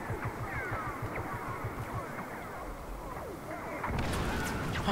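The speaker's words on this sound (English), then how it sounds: "You should hear it and there's a big explosion." Dense Star Wars Battlefront beta battle noise with repeated laser-like zaps and rumbling blasts, swelling louder near the end into a heavier explosive burst.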